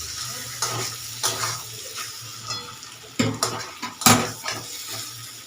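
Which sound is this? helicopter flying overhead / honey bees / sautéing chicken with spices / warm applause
sautéing chicken with spices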